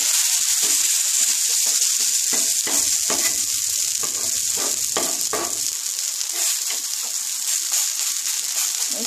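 A flipped breakfast snack fries in a pan, giving steady loud sizzling and hissing throughout, with soft scraping and pressing noises mixed in.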